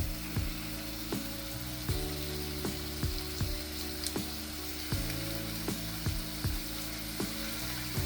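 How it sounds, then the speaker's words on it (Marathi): Pork belly skewers searing in a pan, with a steady loud sizzle and repeated sharp clicks and scrapes, close and continuous, and no voices over it. "ह्यो मातशें सियर करून घेता"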